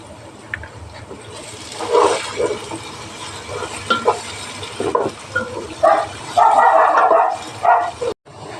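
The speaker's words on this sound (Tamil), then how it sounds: "இஞ்சி பூண்டு பேஸ்ட்டும் போட்டு நல்லா வதக்கி விட்டுடலாம்" Ginger garlic paste being sautéed in a pan for white chicken pulao, with stirring scrapes and a steady sizzle that swells in bursts, close and moderately loud, with no talking.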